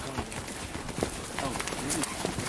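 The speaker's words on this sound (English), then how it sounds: "The horse walking sideways." Horse hooves clopping at a walk as the horse steps sideways outdoors, a steady uneven beat heard close under ongoing background noise and talking.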